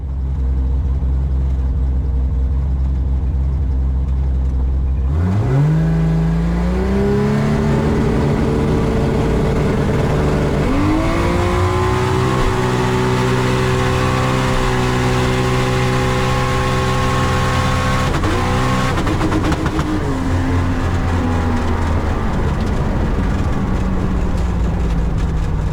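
An American turbo inline-six race car engine rises steadily in pitch as it accelerates hard, a loud continuous drone recorded in-car.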